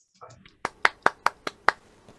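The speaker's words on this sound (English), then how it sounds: "Please give Prisca a great welcome applause." A small audience gives a welcome round of applause for a guest speaker at a talk, six sharp, evenly spaced claps ringing out close by after a brief spoken word.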